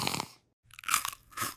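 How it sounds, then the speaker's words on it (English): Close, loud crunchy chewing comes in a few bursts with a brief silent gap between them. "I chew loudly."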